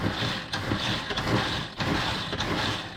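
A hand-pulled gear mixing mechanism, an ancient Egyptian invention replica, rattles and clicks close by in quick repeated ratcheting pulls, several strokes in a row with brief pauses between them.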